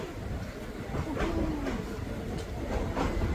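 Passenger train number 417, running from Kaeng Khoi to Udon Thani, rumbles into Thanon Chira Junction station in Thailand with a steady loud roar and rhythmic wheel clatter, close by.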